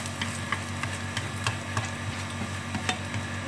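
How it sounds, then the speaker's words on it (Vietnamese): Potatoes stir-fried in garlic-scented oil on a Vietnamese home stove: a steady close sizzle with regular scraping and stirring clicks from a spatula against the pan, no voices. "bật bếp lên nhé và cho khoai vào mình xào"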